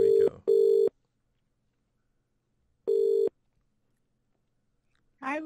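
An outgoing phone call rings on the line, two short electronic ring bursts, then a pause before a third, clear and close, followed by a brief moment of a voice at the end.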